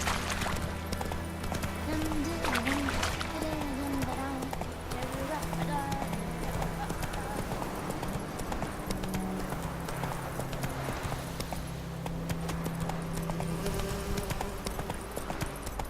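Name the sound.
hoofbeats of Geralt's horse Roach, from video game The Witcher 3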